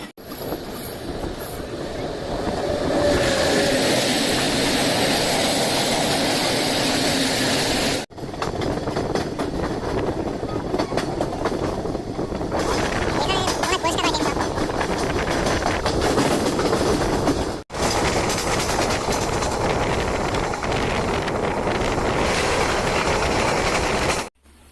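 Farakka Express passenger train running along the rails on the way to Buniadpur, a steady loud rumble of wheels and carriage noise filling the whole stretch, with two brief dropouts and faint clatter throughout.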